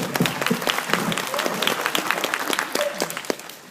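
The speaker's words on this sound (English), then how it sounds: "Come on, clap it up for Baby Bear." An audience claps and cheers for a child in a bear costume at a Three Little Bears performance, with lively, uneven applause and voices calling out over it.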